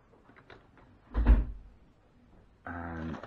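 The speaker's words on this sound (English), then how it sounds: "excuse the background noise there, people slamming doors" A door slams once in the background, a short muffled thud amid quiet room noise, with a voice starting up just afterward.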